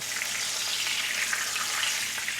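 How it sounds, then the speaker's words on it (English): A fish fillet shallow fries in canola oil at about 350 degrees, giving a steady, close, even sizzle that runs without a break and has no talking over it. "It's a very shallow fry and some canola oil at about 350."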